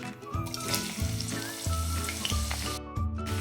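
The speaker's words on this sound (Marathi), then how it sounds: "आता तेल तापत ठेवले आता कांदा टाकून घेते" Onion sizzles in hot oil for a dry fish and potato curry, a steady bright frying hiss heard close up beneath background music with a tuneful melody.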